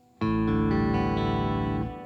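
A guitar in standard tuning is strummed once across its open, unfretted strings, and the chord comes in sharply and rings full and close for nearly two seconds before it starts to fade. No one speaks.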